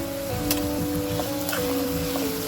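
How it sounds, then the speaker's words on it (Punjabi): Onions and bitter gourd filling fry in a pan with a steady sizzle and occasional stirring clicks, close and continuous under a faint background hum. "ਪਿਆਜ਼ ਦੇ ਵਿੱਚ ਹੀ ਆਪਾਂ ਇਹਨੂੰ ਵੀ ਭੁੰਨ ਲਵਾਂਗੇ"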